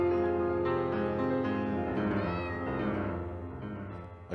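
A cat in a video game gives a long, drawn-out meow that wavers and fades, heard close and alone with no talking.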